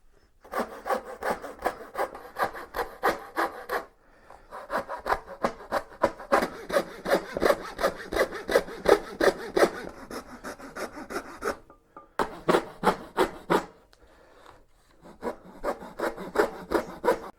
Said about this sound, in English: I've drilled a hole and I've taken my saw apart. So now I can get inside here and follow this line, cut out this piece.